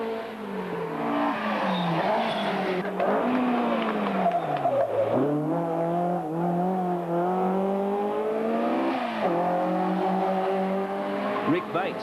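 Ford Escort rally car on a London to Sydney Marathon Rally 2000 stage, its tyres worn: a steady engine drone rising and falling with gear changes and revs, heard beneath continuous commentary.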